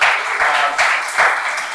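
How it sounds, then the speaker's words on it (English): Audience round of applause at a film talk on AIDS activism, steady close clapping from a crowd swelling in loose waves, with no talk over it. "let's give a round of applause for"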